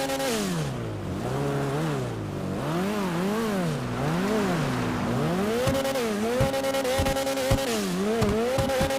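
Ubermacht Sentinel Classic widebody, modeled on a BMW E30 M3, revving in a video game: engine pitch rises and falls in repeated sweeps, then sharp throttle blips with crackles near the end, loud and continuous.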